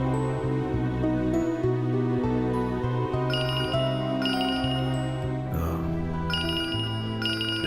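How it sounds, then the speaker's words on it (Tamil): A mobile phone rings with an incoming call, a repeating electronic ringtone melody playing steadily and loudly for several seconds over a backing of music. "ரிச்சர்ட் தான் ஃபோன் பண்றார"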